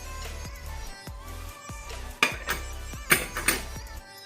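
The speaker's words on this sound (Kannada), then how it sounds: "ಇಲ್ಲಿ ನಾನು ಪಾತ್ರೆ ಬಿಸಿಗೆ ಇಟ್ಟಿದ್ದೇನೆ" A cooking pot set onto a stove in a home kitchen, a series of close metallic clanks and knocks of cookware with ringing tones, several sharper hits near the end.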